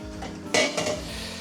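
A metal frying pan clanks against a gas stovetop, a brief clatter followed by a lighter knock of cookware.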